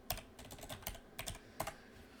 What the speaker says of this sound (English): and then I'm going to type in Wraith.